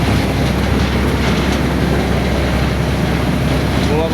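Waves splash against a boat under way, a continuous rushing wash mixed with the drone of the craft's engine, loud and close throughout.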